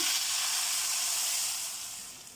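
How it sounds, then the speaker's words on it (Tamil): A steady, loud hiss and sizzle as hot oil tempering is poured into boiling sambar, broad and continuous, slowly fading toward the end. "நல்லா கொதிக்கிற சாம்பாரில் ஊற்றிக்கோங்க."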